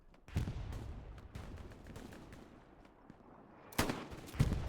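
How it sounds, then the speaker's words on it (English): Distant rifle gunfire from a Thompson submachine gun in Hell Let Loose, a World War II shooter, on the Carentan map, with scattered shots and louder bursts near the start and end over steady battle ambience. "Shooting across with the shoddy"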